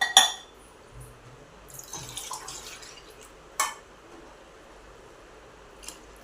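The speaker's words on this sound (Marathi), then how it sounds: "त्यामध्ये आपण आता पाणी टाकूया" Water from a glass splashes briefly into a cooking pot in a short gush between scattered clinks and taps of kitchenware, otherwise quiet and close.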